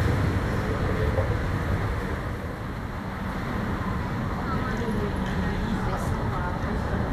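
Steady rumbling drone of a moving MRT train with continuous rolling noise from start to end, heard from inside the carriage.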